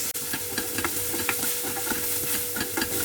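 Grated ginger being stirred through onions frying in a pan for a coriander and green pea curry, with steady sizzling and scattered scraping taps of the spoon throughout, no voices.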